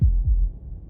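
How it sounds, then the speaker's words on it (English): A heartbeat from the video game Slay the Princess: two deep, muffled thumps in quick succession, close and loud, fading into a low throbbing hum. "That was the sound of a heartbeat"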